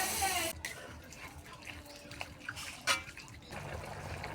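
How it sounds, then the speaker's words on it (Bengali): Water poured into a cooking pan of broad beans and potatoes that have already been fried down, a steady rushing splash lasting a few seconds, fairly close, with a brief louder gush near the end. "এবার জল দিয়ে দেব।"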